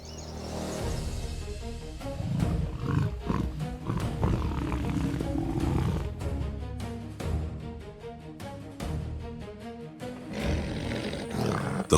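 A lioness roars repeatedly while fighting to protect her calf, with loud, rough, growling bursts in an irregular rhythm and short breaks between them, close and powerful, with no talk.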